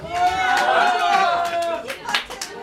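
Audience clapping at a poetry battle event in Ivano-Frankivsk, a scattered burst of applause mixed with a voice talking over it, the claps growing sharper toward the end.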